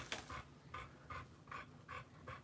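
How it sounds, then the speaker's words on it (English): A dog pants close by in quick, breathy bursts, roughly six rhythmic huffs over a couple of seconds, with no voices over it. "I'm talking to my dog."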